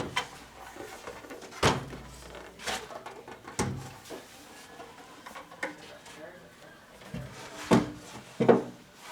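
A wooden drawer is pulled out of a cabinet, with several knocks and scraping thuds of wood spaced irregularly, close by, while someone talks between them.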